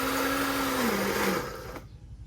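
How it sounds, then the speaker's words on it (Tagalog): A blender whirs loudly with a steady motor hum, its pitch dropping slightly before it switches off and fades to quiet room noise. "Okay, sige, ano yung mula? I-blender mo muna."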